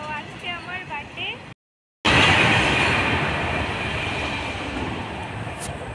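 A train departing a station: after a few seconds of someone talking and a brief silent cut, a loud, continuous rumble of rolling wheels and carriages fills the rest.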